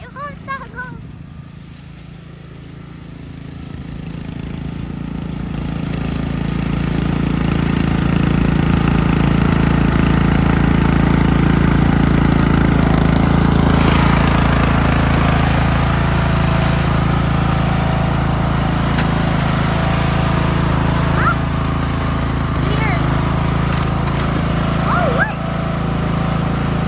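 A Craftsman riding lawn mower engine runs steadily close by, a loud continuous drone that swells over the first few seconds and then holds, with a few faint clicks over it.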